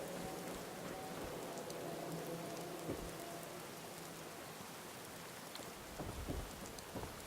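Steady rain falls in Fallout 4, a dense continuous hiss with a few low rumbles of thunder and scattered drops, heard alone without voices.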